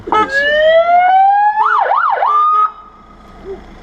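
A loud, close ambulance siren: a long rising wail that shifts into a quick warbling yelp, then fades out, at a winter camp in the UK.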